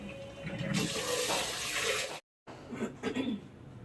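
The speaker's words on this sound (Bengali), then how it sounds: "চালটা ধুয়ে রাখি, চালটা একটু ধুয়ে রাখলে চালটা ভালো হয়" Rice being rinsed under a running kitchen tap, a steady broadband rush of water with swishing grains that cuts off abruptly, then resumes with softer splashes and stirring near the microphone.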